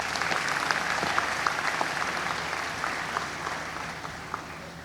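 Applause fills the hall at a 2019 education ministry back-to-school meeting. Sustained clapping from a sizeable audience runs at an even level and slowly thins toward the end, with no speech over it.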